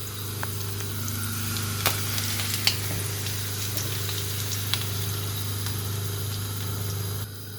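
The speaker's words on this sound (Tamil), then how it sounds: "எண்ணெய் அப்படியே கொதிக்க இந்த மாவை அப்படியே வளைச்சி ஊற்றுறேன்." Steady, close sizzling of boiling frying oil as batter is poured in, with faint crackles and occasional sharp pops throughout, no voices.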